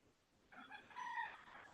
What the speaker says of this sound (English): well, I hear the rooster in my yard.